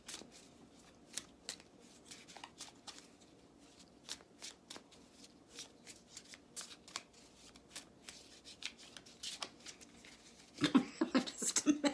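Tarot cards shuffled by hand in quick, soft riffling bursts, close and fairly quiet, with scattered card flicks and a louder flurry of shuffling near the end.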